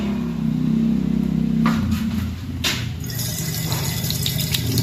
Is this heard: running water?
yes